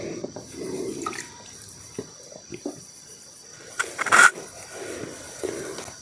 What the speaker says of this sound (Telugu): ఇంకా నీళ్ళు చల్లుకోవాల్సిందే